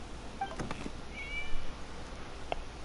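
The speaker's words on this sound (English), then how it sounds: "It was just a cat." A cat in the video game Genshin Impact gives a couple of faint, short meows, soft and distant over a quiet background.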